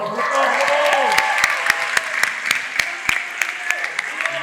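Audience applause during a staged wedding scene in a high school musical performance, steady clapping with a few sharp distinct claps standing out over a light crowd wash, while voices and music sit underneath.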